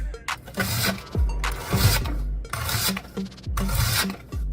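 An onion is pushed through a manual vegetable slicer in a home kitchen, four rhythmic rasping strokes, each a harsh close scrape followed by a brief clunk of the blade return, with no talk.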